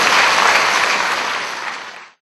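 Steady applause from an audience at a Korean tea-life leaders' training award ceremony, a dense burst of clapping lasting about two seconds before cutting off abruptly.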